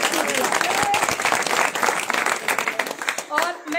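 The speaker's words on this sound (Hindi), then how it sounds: "तालियों से उनका स्वागत कीजिए।" Crowd applause at a Congress election rally in Uttar Pradesh: dense, sustained clapping fills the whole stretch, with voices talking over it and cheering toward the end.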